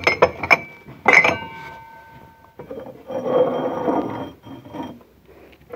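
A wine glass being handled at a home desk, giving a few bright clinks and ringing chimes early on, followed by softer rattling and scraping contact sounds.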